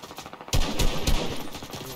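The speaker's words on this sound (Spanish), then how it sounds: "aquí se escuchan disparos" Rapid gunfire and machine-gun bursts in a shooter video game, several sharp volleys in quick succession at moderate loudness with no talk.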